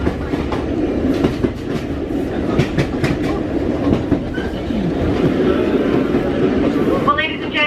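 A passenger train heading to Mallaig rumbles along the rails with steady clickety-clack from the wheels, heard from inside the carriage. A faint squeal comes through near the end.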